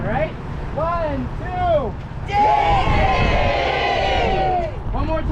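Crowd at the Moshannon Valley Ice Rally cheering and shouting in a rehearsed wave, a loud sustained roar of many voices swelling and holding for a few seconds, with announcer-style talk and crowd noise around it.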